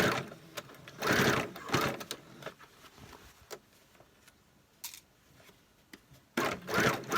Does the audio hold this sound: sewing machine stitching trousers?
yes